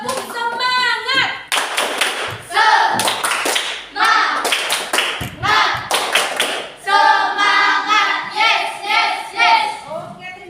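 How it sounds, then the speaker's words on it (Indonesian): In a classroom, students do a rhythmic spirit clap: loud, close bursts of clapping in set patterns alternate with children chanting together in unison. "Kita tepuk semangat dulu"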